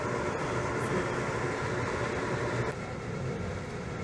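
Steady rumble of a train ride near Philadelphia, a dense, continuous low roar with broadband rail noise that dips slightly in level partway through, no voices over it.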